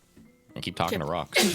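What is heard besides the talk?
sneeze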